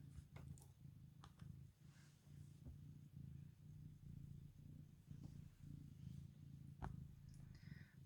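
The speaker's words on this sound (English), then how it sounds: "I don't know if you can hear her purring." A cat purrs close by in a quiet room, a soft, steady low rumble that pulses in a regular rhythm of breaths, faint overall, with a few small ticks and clicks in the background and no talking.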